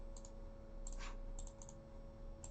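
A username is typed on a computer keyboard during mail server setup: a few light, scattered key clicks, near and fairly quiet, over a steady hum with no talk.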